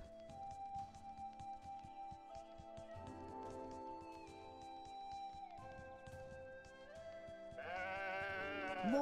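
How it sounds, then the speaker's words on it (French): Sheep bleat repeatedly in the video game Woven, the calls rising and falling over soft background music, with a louder, closer bleat near the end. "More sheep, although one of them looked unique."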